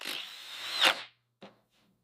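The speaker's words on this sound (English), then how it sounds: "use the holes I drilled in the tang earlier as a guide to drill through the liners and the scales" A power drill bores through knife handle liners and scales, guided by holes already drilled in the tang: one loud whirring burst that cuts off, then a short second buzz and a faint tail.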